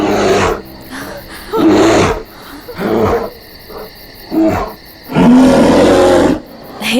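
A bear in an action movie gives repeated loud, rough roars in bursts of about a second, broken by short gaps, close and forceful against a background of film score.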